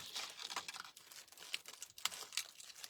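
Close, crisp crinkling and snipping as scissors cut a plastic tag off an Angel Vine plant, a run of small rustles and cuts with no talk.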